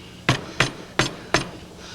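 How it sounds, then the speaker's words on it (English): A hammer taps a piece down to level it before clamping, four sharp, evenly spaced blows close by with no talking. "hammer it down a little bit there,"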